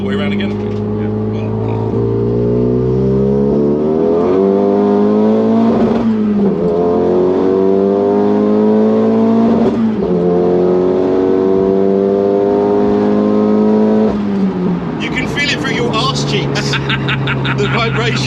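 A 325 bhp Renault Megane accelerates around a roundabout, its engine loud and close from inside the cabin, climbing in pitch through several pulls with brief dips between gear changes. Near the end a burst of rattly, noisy sound breaks over the engine.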